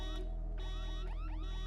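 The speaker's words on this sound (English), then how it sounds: "It's this car alarm." A car alarm blares nearby, cycling through rising and falling electronic whoops in quick repeated sweeps, steady and loud with a low hum beneath.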